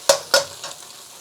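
Whisked egg going into a hot pan for king prawn fried rice, heard as two sharp, close sizzling splashes in quick succession, then a softer third hiss that fades into quiet.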